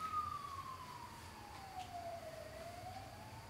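A siren sounds in the distance, one long slowly falling wail that levels off, fairly faint over a steady background rumble of traffic.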